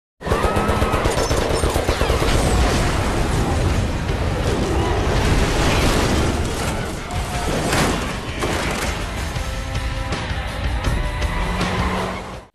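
Rapid bursts of automatic gunfire and booming blasts as a police car is blown up in an action film, loud and chaotic, with brief lulls, a car engine and shouting voices mixed in.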